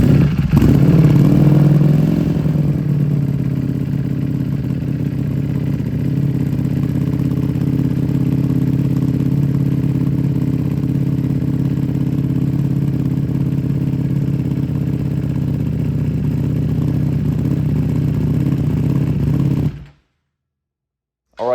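A rebuilt salvage Ducati Panigale V4S with a clear clutch cover fires up with a sharp rev, then settles into a loud, steady close-up idle before cutting off abruptly near the end.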